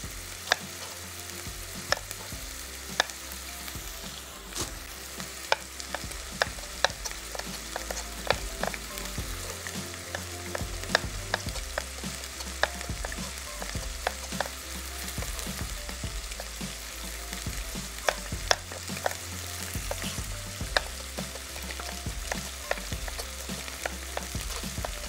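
Onion and capsicum frying in a pan with chicken, a continuous close sizzle with periodic scraping stirs and sharp utensil taps, no voices over it.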